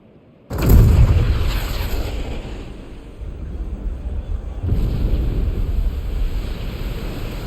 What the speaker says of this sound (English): with a single blast of Junon's famous cannon, Rufus Shinra has announced his arrival